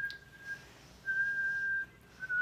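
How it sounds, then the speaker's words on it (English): A one-year-old toddler whistles while learning to blow on food in a home kitchen, making thin wavering tones in a few short bursts at close range over faint room noise. "my 1-year-old is just learning how to blow on food. So now he's whistling."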